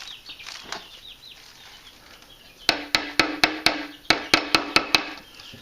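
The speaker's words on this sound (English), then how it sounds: "I'm going to attach it back here with staples." Staples are driven to fix a weaving strand to a chair frame for a New England porch weave. After soft rustling come two quick runs of sharp, close snapping shots, about ten in all.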